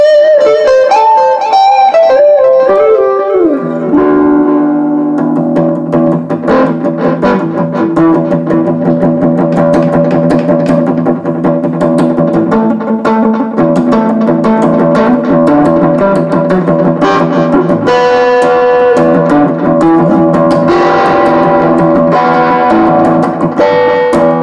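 An electric guitar through a VOX Mini Go 50 amp with echo effect plays sustained distorted notes and chords, loud and close, repeats trailing behind each phrase for a long stretch.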